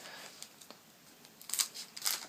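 Scissors cutting open a Pokemon TCG Plasma Freeze booster pack, with a few quiet, crisp snips and crinkles of the foil wrapper, close and isolated in a near-silent room.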